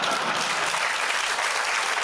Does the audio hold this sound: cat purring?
no